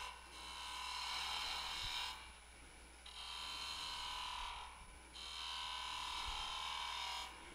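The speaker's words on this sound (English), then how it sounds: "I turn this cutting edge into my wood and just walk down" A turning tool cuts wood on a Powermatic lathe with a steady, close rasping whir in three long passes separated by brief pauses, a low motor hum running underneath.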